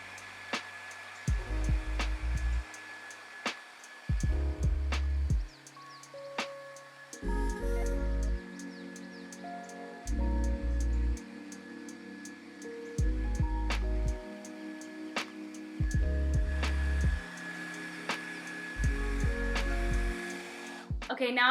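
A hair dryer blows in repeated bursts of several seconds each, switching on and off as hair is dried with a brush, loud and close, with faint background sounds between bursts.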